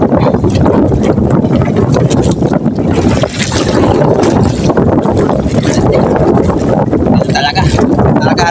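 Strong wind roars steadily across the microphone while a boat drifts with its engine off, buffeting loud and constant with a light slosh of water. A voice talks underneath.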